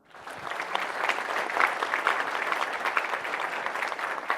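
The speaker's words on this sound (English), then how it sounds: "A warm round of applause to all of you." A large forum audience applauds a group of journalists, mostly from Global South countries, with dense, steady clapping that holds at an even, fairly loud level throughout.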